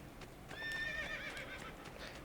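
A horse whinnies in the video game Assassin's Creed 2, a high neigh with clip-clopping hooves continuing steadily underneath, faint and heard without any talk.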